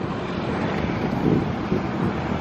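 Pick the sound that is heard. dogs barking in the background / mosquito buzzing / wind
wind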